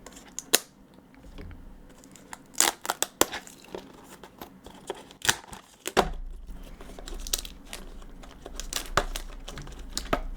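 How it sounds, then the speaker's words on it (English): Scissors snipping and tearing open a foil trading card pack, close and quiet, with sharp irregular cuts and crinkles, sparse and then quicker toward the end. "These scissors, so helpful."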